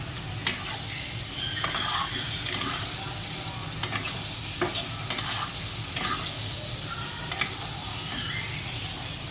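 Chicken pieces for Manchurian fry in a pan with a steady, close sizzle, while a utensil scrapes and clacks against the pan in irregular bursts as the pieces are stirred.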